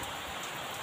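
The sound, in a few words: heavy rain at a hut in rice fields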